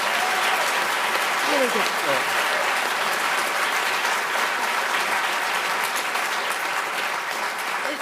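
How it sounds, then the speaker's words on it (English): A school audience of about 600 people applauds a student speaker named Harry, a dense, steady roar of clapping that fills the whole stretch, with a brief spoken comment heard near the start. "Can we just give Harry a round of applause?"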